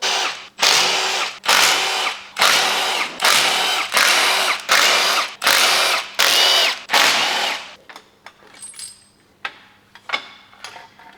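A power tool spins out the camshaft carrier bolts on an Audi R8 V10 engine, loud repeated whirring bursts of about half a second each with short gaps, followed by quieter clicks and metallic rattling as it stops.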